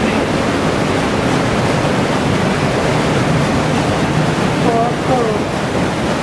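A waterfall in Scotty Creek slot canyon pouring into a deep, cold pool, a loud, steady roar close by that fills the whole clip, with a brief faint voice near the end.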